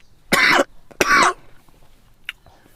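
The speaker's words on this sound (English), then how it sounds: "I am so much suffering for cough, taking medicine" A man coughs twice in sharp, close bursts at the end of a lecture, with a brief faint sound trailing afterward and no speech.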